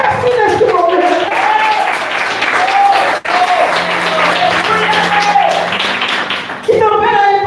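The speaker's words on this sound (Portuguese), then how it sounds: "aplauda o mestre neste momento." A church congregation claps loudly during a worship service, dense sustained applause mixed with voices, shouts and a brief musical tone underneath, with a short dropout midway before the clapping resumes.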